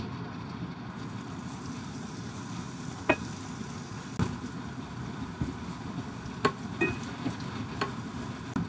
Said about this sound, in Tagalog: Tapos magigisa na tayo ng bawang at sibuyas.